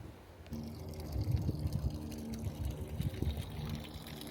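Tap water running steadily from a street fountain in Chur, Switzerland, a continuous splashing trickle at close range that starts after a brief quieter moment.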